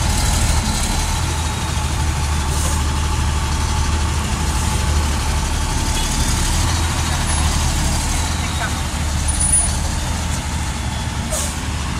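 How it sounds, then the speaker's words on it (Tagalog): A large truck engine rumbles steadily at close range, a deep continuous drone with faint hisses and clicks over it. "Sarap sa tenga yung makina"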